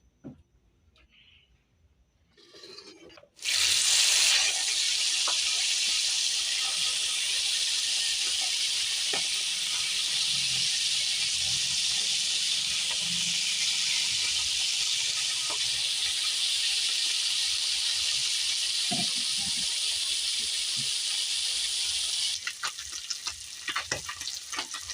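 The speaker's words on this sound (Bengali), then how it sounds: "কড়াটা গরম হয়ে গেছে, তেল দিয়ে দিচ্ছি। তেল দিয়ে মাছ ভাজবো।" Large mourala fish drop into hot oil in a wok, and a loud, steady sizzle starts abruptly and carries on without a break, with faint clinks and scrapes underneath before it thins slightly at the end.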